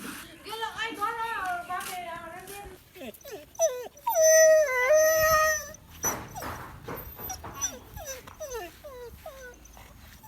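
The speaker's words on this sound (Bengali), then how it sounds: "এই কুকুরের মনে হয় খিদা লাগছে" A hungry dog whimpers and yips in repeated high, wavering whines, close by, alternating with a child's and adults' voices in a home.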